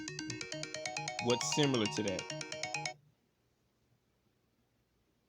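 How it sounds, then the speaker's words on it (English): A phone ringtone chimes in a steady repeating melodic pattern, fairly loud, with a person talking over part of it, then cutting off abruptly into near silence. "Sorry about that phone call."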